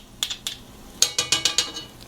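A metal spoon clinks sharply against a stew pot while tomato paste is stirred into Irish beef stew, a few spaced taps, then a quick run of five or six bright knocks.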